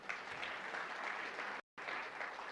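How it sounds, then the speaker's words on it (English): Audience applause at a startup summit evening event, a continuous, even roar of many hands clapping with a brief dropout partway through. "Please give yourself a big round of applause for this act of bravery."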